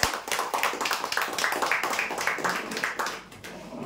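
An audience applauds a prize winner at a lucky draw event, with dense, steady clapping from many hands that holds close and loud for several seconds, then thins and fades slightly at the end.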